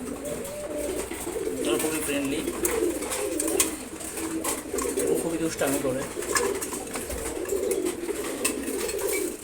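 Two lively, house-bred maxi racer pigeons coo steadily in a loft at morning feeding, their soft repeated calls running beneath a man's speech.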